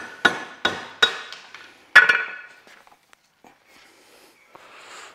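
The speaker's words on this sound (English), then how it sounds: "So I'm just going to knock this seal out the transfer case" A nylon hammer knocks an old seal out of a 60 Series transfer case during a gearbox and transfer rebuild: five or six close, sharp knocks in quick succession, each ringing briefly, then quiet handling noises.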